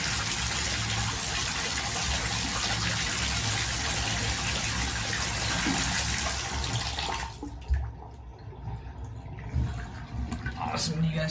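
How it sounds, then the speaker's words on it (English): Water gushing and gurgling down a bathtub drain just cleared of a wad of hair, a loud steady rush for several seconds that cuts off into quieter trickling and drips, with a person talking in the background. "you guys can see that draining right out"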